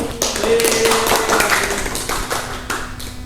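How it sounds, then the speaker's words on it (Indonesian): A small classroom group claps and taps unevenly during a microteaching lesson, with scattered sharp hand strikes at moderate loudness and faint voices underneath. "Tepuk tangan untuk kita semua."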